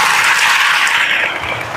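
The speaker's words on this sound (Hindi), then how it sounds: "sister लोगों ने जोर से ताली बजाइए।" Loud applause from a church congregation, dense and steady clapping filling the room and tapering off slightly at the end.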